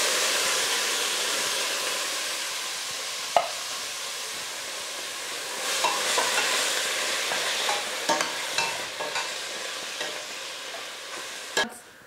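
Diced tomatoes tipped into a beef stew pot and stirred, giving a steady close sizzle with scattered scrapes and clunks of the spoon against the pot, plus a louder clank near the end.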